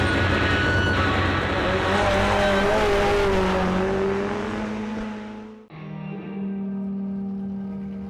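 A Ford Mustang race car at an abandoned NASCAR speedway revs hard, the engine note climbing loud and close, then cutting out briefly before settling into a steady, throbbing idle.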